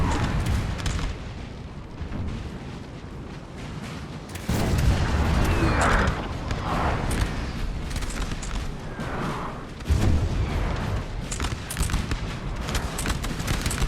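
Cannon fire from French guns in a Napoleon: Total War battle of Baza, 1810, with dull booms and cracks of artillery and musketry rolling on continuously, several heavier blasts standing out in a dense, noisy battle din.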